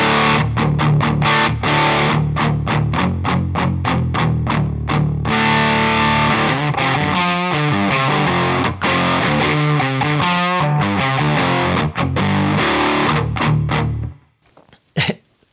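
An electric guitar through a Box of Rock distortion pedal plays a loud, heavily driven riff of chugging chords and sustained notes, close and continuous, before cutting off abruptly near the end.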